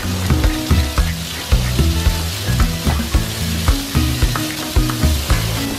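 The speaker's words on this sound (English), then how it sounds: "When the oil starts to smoke, add the shrimp and fry for about 1 to 2 minutes." Shrimp fry in hot, smoking olive oil in a wok with a loud, dense sizzle and steady crackle, punctuated by rhythmic stirring or tossing knocks, close up with no talking.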